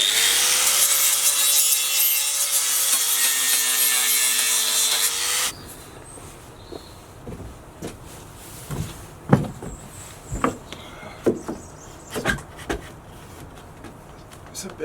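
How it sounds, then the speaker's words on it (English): Wooden cladding board being notched to fit the curve of a vehicle chassis, a loud whining power-tool cut for about five seconds, then a series of scattered knocks and scraping rubs on the wood. "So I've got to try and notch the board out to make it fit"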